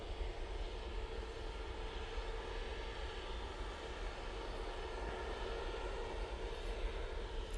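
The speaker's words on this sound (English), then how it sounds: "There's a Ryanair coming in, but we're going to stay on this EasyJet." An EasyJet airliner on approach to an airport gives off a steady, faint, distant engine roar. The sound holds evenly throughout with no voices.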